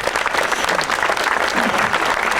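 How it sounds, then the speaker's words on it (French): An audience at an art biennale opening applauds steadily, a dense wash of many hands clapping at once, continuous and fairly loud throughout. "je crois qu'on peut l'applaudir"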